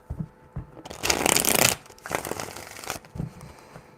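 Tarot cards riffle-shuffled several times during a reading, a dense papery flutter in bursts, loudest in the middle and ending in a few soft taps, close and clear with no talk.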